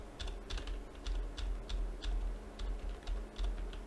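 Computer keyboard keys tapped while playing the factory-building game Alchemy Factory, a steady run of quick, close clicks over a low background hum, with no speech.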